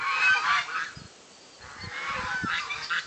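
Geese honk loudly and repeatedly near a farmyard with chickens nearby, giving harsh, overlapping calls in two bursts with a brief lull between them.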